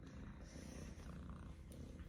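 A cat purrs close and steady, a low continuous rumble with a pulsing texture that lasts throughout, faint and alone.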